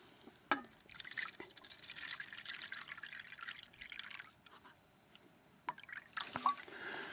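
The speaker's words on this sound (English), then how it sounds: "Okay, there's the water in the pan." Water poured into a camping pan on a December woodland hike in the Quantocks: scattered drips and splashes with a few sharp pours and knocks, close by, in quiet outdoor surroundings.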